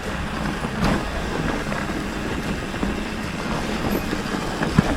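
A vehicle carrying a heavy shovel of about a tonne and a half over its rear wheels runs with a steady, rumbling engine drone that stays constant throughout.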